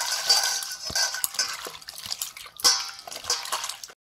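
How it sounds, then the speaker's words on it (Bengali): Palm seed kernels being washed by hand in water, with continuous splashing, sloshing and dripping plus a few light knocks against a container, close and fairly loud with no talking. "এই জন্য বাটার জন্য এগুলো ধুয়ে দিচ্ছি"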